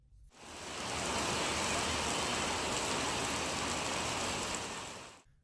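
Heavy rain pours down in a steady, dense hiss that stays even throughout, with no voices.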